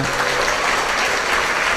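Congregation at a Malayalam Christian prayer service applauding together, a dense, steady wash of clapping filling the room without a break.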